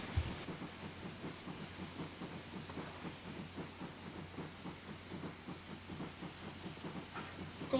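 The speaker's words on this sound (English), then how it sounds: "It just keeps making steam." Steam locomotive blowing off steam: a steady broadband hiss with a low rhythmic pulsing underneath, continuous and fairly close throughout, with no voices.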